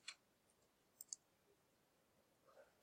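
A few faint computer mouse clicks, sparse and isolated against near silence, with one near the start and a close pair around the middle.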